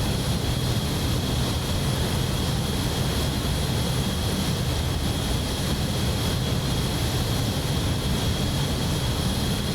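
A loud, steady roar of Concorde jet engines in Microsoft Flight Simulator 2020, heard from outside the aircraft, runs without a break, dense and unchanging, with a faint high whine sitting above the rumble.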